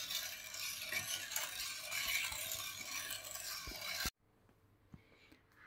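Steady scraping and swishing of a utensil stirring a pot of dessert cream for sweets, continuous for several seconds before abruptly dropping to quiet, with faint clinks.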